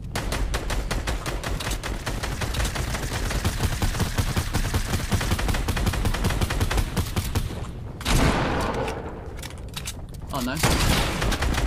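Rapid, continuous automatic gunfire in Fortnite during a low-gravity match fires in a fast, even rhythm for about eight seconds, then breaks into a brief sharper burst and bang, with a man's short exclamation over it.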